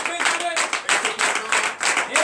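A church congregation at a night deliverance and prophecy service claps loudly in a steady, full wash of applause, with voices shouting and cheering through it.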